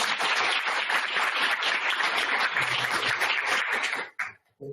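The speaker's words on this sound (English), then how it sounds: "I would like to welcome him to the warm round of applause." Lecture audience gives a warm round of applause to welcome a business ethics professor at a sustainability talk; full, continuous clapping that thins and stops abruptly near the end.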